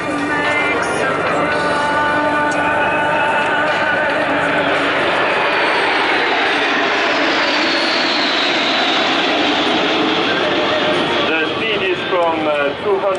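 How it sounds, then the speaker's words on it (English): Six aerobatic display jets flying in close formation at the Bournemouth Air Festival: a loud, continuous engine roar with shifting pitch as they pass, and a commentator's voice running over it throughout. "the 6 aircraft will fly at just 3 meters from each other."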